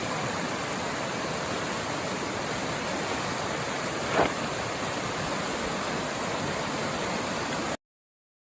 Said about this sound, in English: Some fun little rapids here.